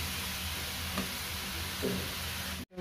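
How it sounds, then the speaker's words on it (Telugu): Carrots frying in ghee in a pan give off a steady, close sizzle with faint stirring, quiet and continuous, cutting off abruptly at the end. "దీనికి సరిపడా నెయ్యి వేసుకుంటూ క్యారెట్ వేయించి పెట్టుకోవాలి"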